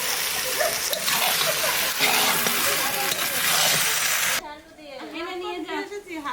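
Goat meat sautés in a kadai with a loud, bubbling sizzle and the sound of stirring for several seconds, then the sizzling stops abruptly and people talk.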